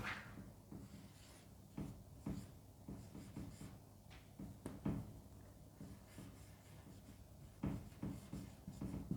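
Marker or chalk writing the word for quadratic in large letters on a classroom board, a quiet scratchy rubbing in short strokes with small taps between, faint and close with no voices.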